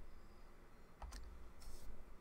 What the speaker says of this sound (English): you need to type in CD I386 and then type in setup